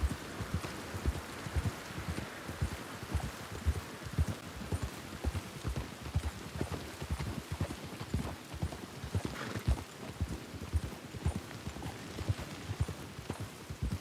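Continuous rhythmic clip-clop of horse hooves at a steady trot in Red Dead Redemption 2, close and clear, with a light patter resembling rain in the background.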